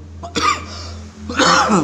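Two close coughs a moment apart, the second longer and rougher, over a low background hum.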